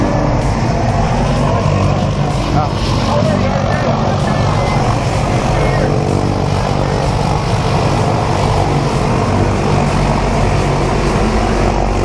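A propeller airplane idles and runs up steadily before a tandem skydive, its loud drone constant throughout with people talking over it nearby.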